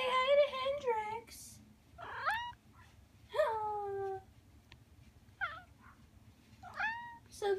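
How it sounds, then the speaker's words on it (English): A newly adopted shelter cat meows repeatedly up close, a string of rising and falling cries spaced a second or so apart over a quiet room. "So this is our new kitty."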